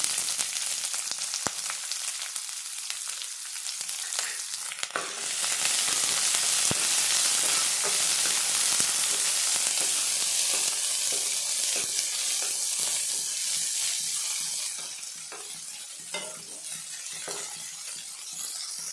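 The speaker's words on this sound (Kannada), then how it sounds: "ಸ್ವಲ್ಪ ಫ್ರೈ ಆಗಿದೆ ಒಂದು ಅರ್ಧ ಫ್ರೈ ಆಗಿದೆ ಈರುಳ್ಳಿ" Finely chopped onion fries in a pan for a snake gourd stir-fry, a loud continuous sizzle that swells midway then eases, with occasional stirring clinks and no talking.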